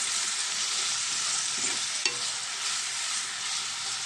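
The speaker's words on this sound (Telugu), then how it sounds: "ఇది బాగా ఫ్రై చేద్దాం." Curry leaves frying in hot oil in a pan for a gongura curry, giving a steady, dense sizzle throughout with one brief stirring clink midway and no talk.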